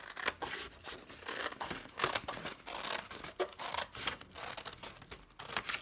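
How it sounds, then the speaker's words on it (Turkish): Scissors snipping through fabric while a bath mitt is cut out, a steady run of crisp, close cuts in irregular rhythm with no talking. "Diğer tarafını da kesiyorum."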